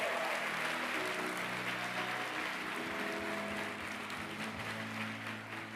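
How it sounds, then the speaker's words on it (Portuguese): Sustained applause from a congregation in a church service fills the space, a dense, loud wash of many hands clapping that tapers slightly toward the end, with no voices over it. "Forte esse aplauso!"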